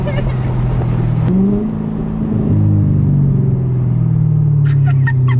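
A straight-piped Chevrolet C7 Corvette exhaust rumbles loudly and continuously up close, with the pitch shifting as the engine revs and settles.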